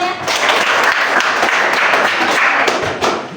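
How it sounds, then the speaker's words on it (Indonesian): A classroom of students claps together in a loud, dense burst of applause lasting a few seconds, with sharp, close hand strikes and a few louder thuds mixed in. "Tepuk tangan dulu untuk semuanya"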